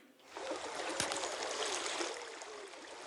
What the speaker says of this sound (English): we can just listen to it for 1 second here as the Odd Brook flows in